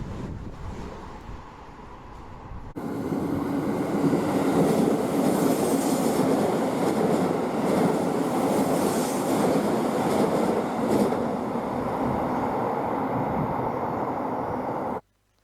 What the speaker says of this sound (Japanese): 武蔵浦和駅へ向かう下総号が来ました。